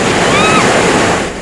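Ocean surf rolling and breaking along the Southern California coast at night, a steady broad wash of loud noise with faint tonal streaks mixed in, fading slightly at the end.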